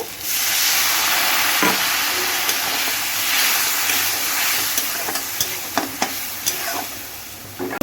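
Ground spice masala of chili and cumin powder with a splash of water sizzles steadily in a pan for Bengali doi-chingri, with scraping stirs and utensil taps near the end.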